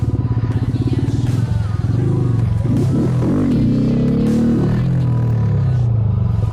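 Honda Grom motorcycle engine idling and blipping with clutch and throttle release during wheelie practice, a close, steady low rumble with a brief rise and fall in revs, with some clatter.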